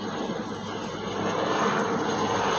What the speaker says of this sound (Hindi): इतने हेलीकॉप्टर उड़ते रहते हैं पूरे दिन।